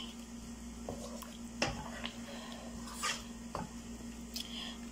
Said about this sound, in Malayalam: എല്ലാം കൂടെ നന്നായിട്ട് ഒന്ന് യോജിപ്പിച്ച് മിക്സ് ചെയ്യണം